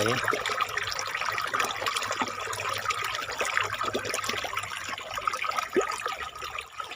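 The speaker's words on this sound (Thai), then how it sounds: "น้ำไหล" Steady water flowing outdoors through rice paddy fields, a continuous broadband rush with faint trickling detail, fairly close and unbroken throughout.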